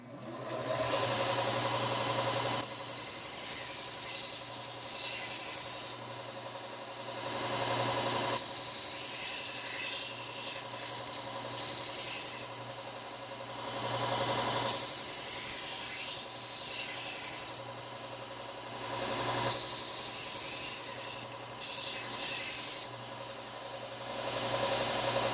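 Shun kitchen knives are ground on a Bucktool slow-speed bench belt sander under a steady motor hum, with repeated several-second passes of raspy blade-on-belt sanding between short pauses.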